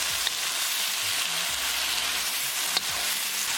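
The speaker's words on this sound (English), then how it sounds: "Now mix them well." Chicken meatballs with rice sizzle steadily in a pan while a utensil scrapes and stirs through them in a few short strokes, close by.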